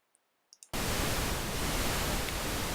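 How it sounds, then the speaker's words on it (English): Pink noise from a test oscillator switches on abruptly after a few small clicks, then holds as a loud, steady, broadband hiss to the end. "as you can hear, that is pink noise"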